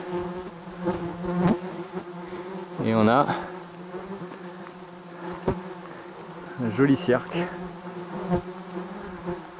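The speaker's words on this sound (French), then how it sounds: "Incroyable ces mouches quand même." Flies buzzing around outdoors, close and persistent, with a steady drone that swells twice as insects pass near, while someone speaks briefly over it.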